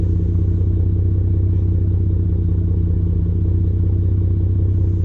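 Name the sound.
Ford F150 EcoBoost idling, AWE exhaust with SPD resonator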